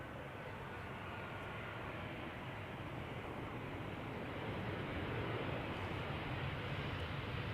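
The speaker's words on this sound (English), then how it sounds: "Now no longer Chucky, but just a regular ass Embraer 190 from German Airways" A German Airways Embraer 190 arriving at Amsterdam Schiphol Airport gives a steady, distant jet roar that swells slightly near the end, with no voices.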